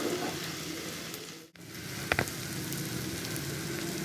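Onion stalks frying in a pan give a steady, dense sizzle throughout, close and fairly loud, with a brief dip and a couple of sharp pops or stirring clicks partway through.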